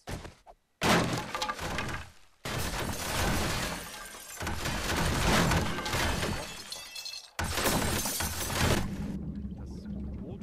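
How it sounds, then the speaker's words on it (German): A boat breaking apart in the survival game 7 Days to Die, heard as loud crashing and shattering bursts with splashy, pouring debris noise, broken by short pauses between a few sustained rumbling collapses. "Das Boot fällt auseinander wegen der Tür."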